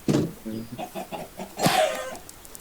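Chickens clucking in the video game Minecraft, a run of short, close clucks and squawks in steady bursts, with a louder flurry near the end.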